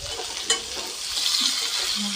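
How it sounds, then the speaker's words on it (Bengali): Ginger and chopped onion frying in a pan while cooking dheki shaag, a steady close sizzle with a brief stir clatter near the start. "আদাগুলি দিয়ে ভালো করে ভেজে নিই এবং পেঁয়াজ কুচি দিয়ে নিচ্ছি।"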